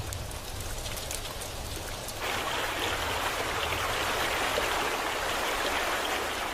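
Heavy rain pours down in the Zambezi region of Africa, a dense steady hiss that grows louder and fuller partway through, with no voices.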